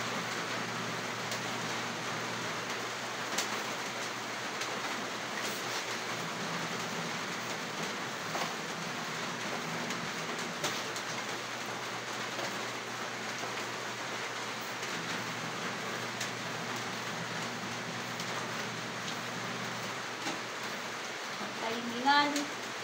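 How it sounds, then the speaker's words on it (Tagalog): Steady rain hisses softly and evenly throughout, a quiet continuous patter with a low hum underneath and a brief knock near the end. "Natimingan tayo sa ulan."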